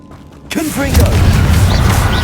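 Confringo blasting spell in Hogwarts Legacy, a loud booming burst that erupts after a short quiet lead-in and rumbles heavily, with a voice briefly heard over it.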